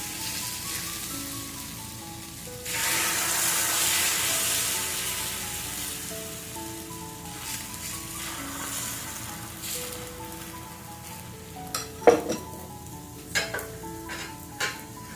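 Almond dosa batter poured onto an oiled pan sizzles with a broad, steady hiss that rises suddenly, holds, then fades, with soft background music and a few sharp clatters of utensils near the end.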